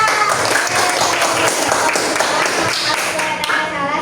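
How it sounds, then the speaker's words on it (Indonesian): Group applause fills a room as an audience claps for a presenting group at an Islamic religious education teaching exam, a dense, steady patter of many hands that thins slightly near the end, with voices faintly under it. "Beri tepuk tangan untuk kelompok 2."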